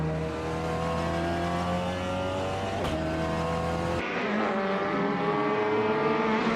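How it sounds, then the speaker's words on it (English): A 2018 BMW 125 IM Sport IM roars loudly and continuously in a racing video game, its steady engine whine shifting pitch partway through as it accelerates, with no talk over it. "Deplorable is driving a 2018 BMW 125 IM Sport IM"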